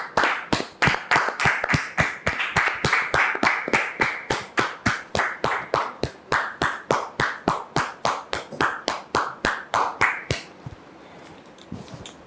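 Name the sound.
audience applause welcoming a guest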